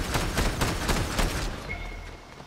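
Fortnite gunfire rattles in rapid, closely spaced shots, loud and dense for the first second and a half, then thins out into a fading tail with a faint high tone.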